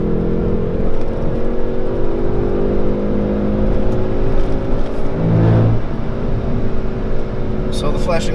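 A 2019 Hyundai Veloster N's 275 hp engine climbs steadily toward the red line, its loud rising drone filling the cabin while someone talks over it.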